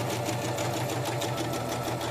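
A sewing machine stitches fabric for a caftan, running steadily and loudly up close with a fast, even mechanical chatter throughout.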